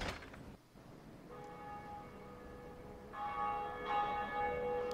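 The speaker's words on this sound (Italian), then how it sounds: "Magari dopo che attivo la campana." Church bell in the Dark Souls video game tolls after a lever is pulled, its sustained ringing partials building over several seconds, with a second louder strike midway, fairly close and with no talk over it.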